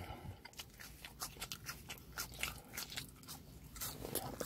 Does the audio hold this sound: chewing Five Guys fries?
yes